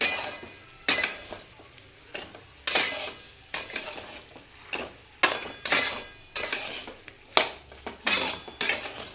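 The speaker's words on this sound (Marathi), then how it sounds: "आता पूर्ण मिक्स करू, अशी मिक्स करून घेऊ." A spoon stirs an ash gourd stir-fry with crushed kasuri methi in a pan, making a regular rhythm of loud metallic scrapes about once a second over a faint sizzle.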